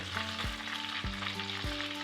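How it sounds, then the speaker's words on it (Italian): Panzerotti frying in hot oil give a steady, close sizzle and crackle that runs without a break. A few faint clinks sound over it and there is no talk. "Friggiamo fino a doratura."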